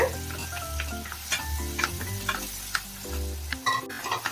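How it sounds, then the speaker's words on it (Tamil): Banana pieces sauté in hot ghee in a pan, giving a steady sizzle broken by scraping and clicking as a spoon stirs them, close and with no talking. "இப்போ இதில் இந்த பனானாவை ஆட் பண்ணிட்டு நம்ம இதில் ஒரு 5 நிமிஷத்துக்கு இந்த நெய்யிலேயே வந்து இந்த பனானா வந்து வதங்கட்டும்"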